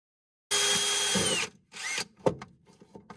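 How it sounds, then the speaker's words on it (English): A power drill with a hole saw bores through exterior house siding for a hose bib install, a loud steady whine for about a second, then shorter bursts and clunks as the cut finishes. "I'm going to drill through the outside layer with a hole saw"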